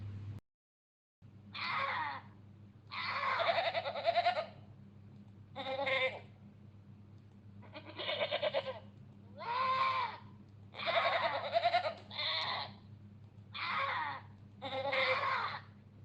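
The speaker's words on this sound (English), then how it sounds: "Goat." A goat bleats repeatedly, about nine separate wavering calls in an irregular rhythm over a steady low hum, each cry loud and close.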